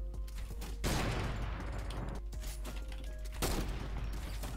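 Blank rounds firing in Fortnite during a 1v1 edit course match, loud bursts of rapid gunfire in two or three spells with brief mechanical clicks between them.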